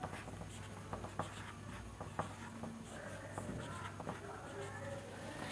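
Chalk or marker scratching across a classroom board in a Hindi grammar lesson, a steady run of short strokes and taps over a low constant hum, with no talk.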